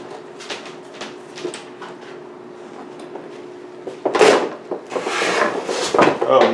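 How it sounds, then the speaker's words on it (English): A cardboard box for a NECA King of the Monsters Godzilla figure is roughly torn open, first with light rubbing and scraping, then loud, close ripping and crumpling bursts in the second half, with a voice faintly under it. "Oh, he's annihilating the box."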